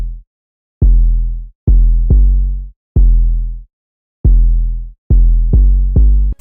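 Deep, booming Spinz 808 kick-bass hits made in FL Studio, with the cutoff at 50%, a touch of EQ bass boost and a soft clipper, sound loud and alone in a loose rhythm of seven hits, each falling away quickly.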